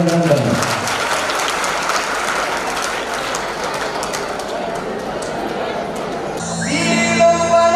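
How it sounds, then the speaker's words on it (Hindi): Loud crowd applause at a Shree Kheteshwar Ji Maharaj consecration festival in Kadapa, dense steady clapping filling the whole span, with a voice over it early and a tonal musical sound entering near the end. "दाता के प्रति जोरदार तालियां बजाकर"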